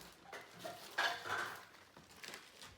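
A small food chopper working through dried black mushrooms in a home kitchen, quick rattling clacks and blade chatter in uneven bursts, close by with no speech.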